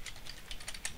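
Computer keyboard typing an item label into a text field of the GECK game editor, with a quick run of light key clicks heard alone and up close.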